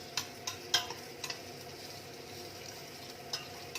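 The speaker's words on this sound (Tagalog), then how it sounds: "Ayan, gigisa muna natin siya guys na 20 minutes." Meat for pares sautés in a pan, with scattered sharp utensil clicks and scrapes against the pan over a soft, low sizzle, all close by and with no talking.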